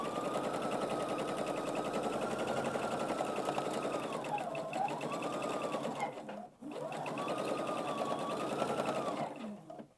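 An older sewing machine runs steadily, stitching an Easter egg table runner, with a continuous loud motor whir that briefly stops, then starts again and runs on to the end.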